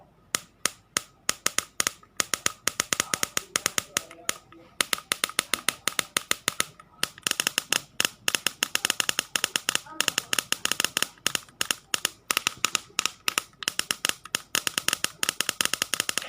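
Ignition sparks snap from the distributor coil of a Toyota Corona 3S engine as it is turned slowly by hand, a rapid, irregular train of sharp close clicks and cracks running continuously.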